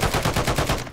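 Rapid automatic gunfire from the video game Call of Duty, a dense, continuous burst of shots rattling loudly for about a second with no talk over it.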